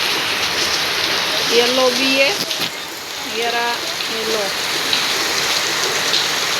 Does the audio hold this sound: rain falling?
yes